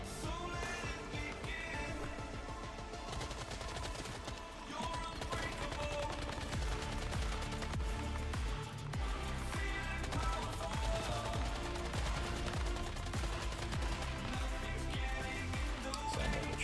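Rapid bursts of gunfire fill a Once Human online shooter battle, dense overlapping shots and automatic fire running continuously at moderate level beneath a constant layer of game music and noise.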